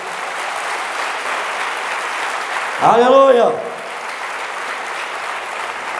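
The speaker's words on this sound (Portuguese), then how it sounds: "Dá uma salva de palmas" A church congregation breaks into steady, dense applause during a Sunday sermon, the clapping filling the room at a constant level while a loud cry of praise rises over it midway.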